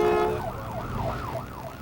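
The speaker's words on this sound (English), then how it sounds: "This is videotape of a Guilford County ambulance just trying to make it through traffic." Guilford County ambulance siren in traffic, a wailing tone rising and falling in steady cycles, fairly close and prominent over low road noise.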